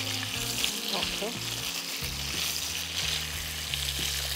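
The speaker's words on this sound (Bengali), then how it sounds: "ঝিঙেটাও কি হালকা ভাজবে? হ্যাঁ, হালকা ভাজবে।" Ridge gourd lightly frying in a pan for a Bengali vegetarian coconut-peanut dish, a steady close sizzle with occasional stirring scrapes and no talk.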